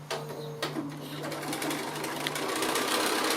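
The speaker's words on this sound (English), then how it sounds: "I'm going to sew not on the line this time, but 1/4 inch either side of the line" A sewing machine stitches quilt pieces for a pear sampler block, a steady close mechanical whir that starts after a brief pause and runs continuously.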